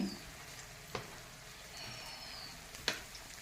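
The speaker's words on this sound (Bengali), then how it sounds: "বন্ধুরা, আমি এখন দিয়ে দিচ্ছি মশলাটা ভাজা" Quiet, steady sizzling of spices with Kashmiri chilli powder and salt frying in a pan, with a few sharp clicks of a utensil stirring against the pan.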